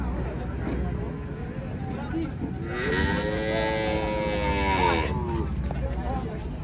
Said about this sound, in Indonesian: Banyak sapi kecil-kecil ya.